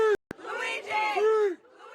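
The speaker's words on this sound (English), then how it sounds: "They cheered when they heard the news of state terrorism charges being dropped." A crowd gathered outside a courthouse cheers and whoops in brief excited bursts, mixed with several voices shouting at a moderate distance.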